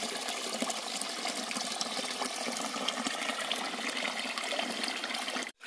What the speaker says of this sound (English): just gonna get some water at this spring here